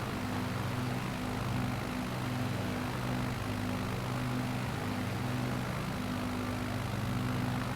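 A steady, droning propeller aeroplane engine is heard from inside the cabin in flight over Nevada, continuous and loud with a constant low hum and no breaks.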